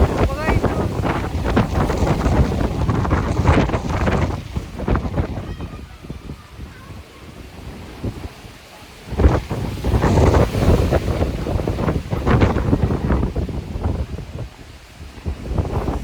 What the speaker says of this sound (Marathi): खूप जोराचा वारा आहे.